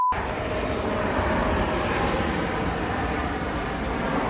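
A JetBlue airliner comes in to land overhead near Revere Beach Parkway, a continuous loud broadband roar that holds steady throughout with no talking.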